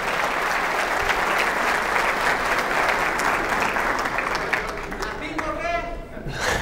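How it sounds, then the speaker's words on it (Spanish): Steady applause from a live audience fills the whole stretch, dense and sustained with a faint voice over it near the end. "aplauso, por favor"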